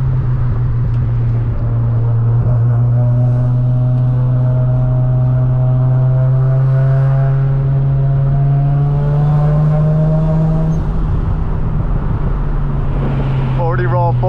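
A Mazda RX-7 FD drones steadily at close range while chasing a white Tesla on a mountain road at night, its engine note climbing gradually through a long pull before a brief change near the end, with occasional voice over it.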